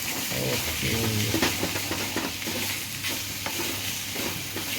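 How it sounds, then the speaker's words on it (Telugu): A potato mixture is stir-fried in a pan to drive off moisture, giving a loud, constant sizzle with repeated scraping stir strokes close by and no voices. "తడి అంత పోయే వరకు ఫ్రై చేసుకుంటాం"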